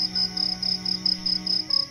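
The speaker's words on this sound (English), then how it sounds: "the loud, yet comforting and seemingly unceasing chirps of crickets" Crickets chirp on a warm summer night in rapid, evenly spaced pulsing bursts, loud, close and unbroken, over a faint steady drone.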